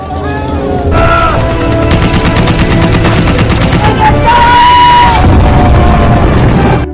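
Gunfire from an exchange of shots in an Indonesian independence war film, a dense loud stretch of rapid shots and bursts layered with battle noise, with voices and a film score running underneath.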